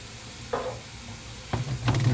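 Paprika, turmeric and garlic get stirred into a hot, sizzling pan for crispy fish bites: a steady frying hiss broken by a few sharp scraping spoon strokes, close and clear, with no talking.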